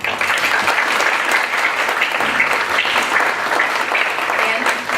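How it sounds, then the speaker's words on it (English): Sustained audience applause at a panel discussion event, dense and steady for the full stretch, with no talking over it. "also get another round of applause for our panelists today."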